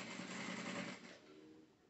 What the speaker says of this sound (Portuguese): Vamos costurar nesta beiradinha.